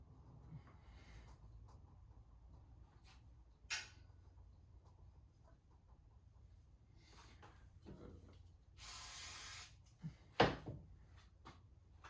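Brake cleaner sprayed onto headset parts of a 1956 Schwinn Hollywood Deluxe bicycle, one hissing burst of about a second amid quiet clicks and handling noises in a quiet workshop.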